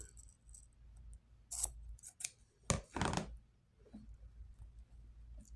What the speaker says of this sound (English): you can get your scissors, cut it at a diagonal